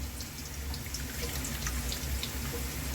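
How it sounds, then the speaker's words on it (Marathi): Water poured from a small cup into a pan of sautéed chillies while cooking a fasting dish of vari rice, a steady close trickle and splash lasting a few seconds, with no talk. "ज्या वाटीन वरीचं तांदूळ घेतलेले ना, त्या ह्यानंच कपानं पाणी घ्यायचं"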